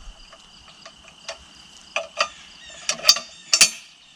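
The claw head of an RH Pusher tree-pushing jack is turned 90 degrees by hand, giving scattered light metallic clicks and ticks that build to several sharper clanks near the end.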